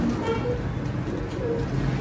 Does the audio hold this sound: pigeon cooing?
yes